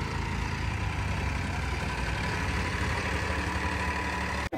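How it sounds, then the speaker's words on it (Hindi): A tractor engine runs hard behind a stuck tempo loaded in sand, a loud, steady low diesel rumble held near the listener for several seconds before a brief thump at the end. "ट्रैक्टर भी लगा दिया है पीछे, आप देख रहे हैं।"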